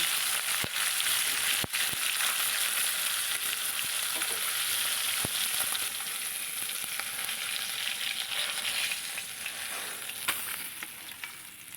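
Koi fish frying in hot oil in a pan for a cauliflower fish curry, giving a steady close sizzle with occasional sharp pops and clicks throughout.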